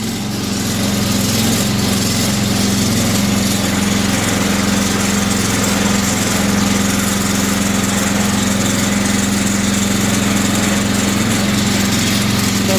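A DACK SMP 13/85 machine runs with its drive belt slack and not running correctly, a steady, droning engine hum with a low vibration that holds constant and close throughout, with no voices.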